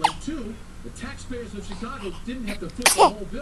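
A single sharp sneeze bursts out near the end, under a man's ongoing speech.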